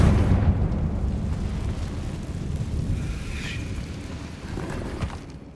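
A Confringo fire spell bursts in Hogwarts Legacy, a broad rumbling explosion that swells early and then rolls on as a sustained low roar, with a brief bright crackle midway and another thump near the end.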